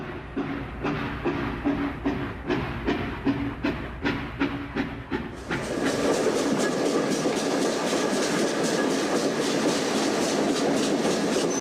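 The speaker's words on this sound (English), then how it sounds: "From all corners of the land, troop trains rolled towards the River Don." Troop trains roll along a railway, a loud steady clickety-clack of wheels over rail joints that shifts into a dense, continuous rushing rumble and hiss as a train passes close by, with no talking.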